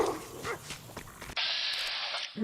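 A dog in the video game Fallout New Vegas, Old World Blues DLC, gives a few short barks and yips, then a steady hissing game sound takes over.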